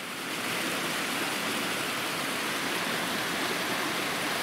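A small waterfall at Exmoor Zoo gives a steady, dense rush of falling water, close and unbroken, with no voices.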